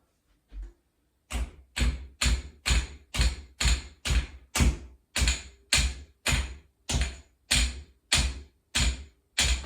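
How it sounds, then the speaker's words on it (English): A steady series of sharp metallic hammer taps knocking off an air rifle's barrel shroud, about one or two per second, close and loud with short silences between strikes. "I'm going to go ahead and tap this off using a hammer."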